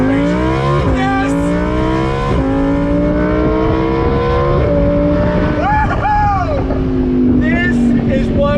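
Audi R8 V10 Plus Spyder, a used 2018 convertible supercar, pulls hard in first gear. The loud engine note climbs steadily with upshift-like breaks, and excited shouting rides over it.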